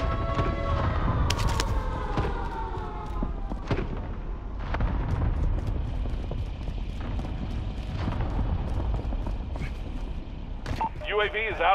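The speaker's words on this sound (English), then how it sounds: "Bringing down an airstrike. Got your request. Cluster strike is active." Cluster strike explosions in Call of Duty Warzone go off as a rapid series of booming blasts and sharp cracks, loud and scattered over several seconds, with gunfire and radio voice callouts mixed in.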